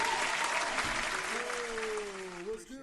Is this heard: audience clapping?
yes